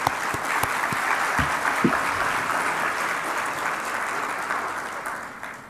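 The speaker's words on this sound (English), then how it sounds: "A round of applause for Sheikha Hanadi." An audience at the Arab Youth Survey 2017 event applauds, a broad sustained wash of clapping with a few sharper nearby claps at the start.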